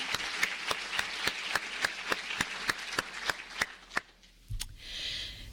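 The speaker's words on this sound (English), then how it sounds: "let's give her a round of applause" Applause from a lecture audience, a crowd's claps sounding as a dense, rapid patter with sharp individual claps, fading out after about four seconds, followed by quiet room noise.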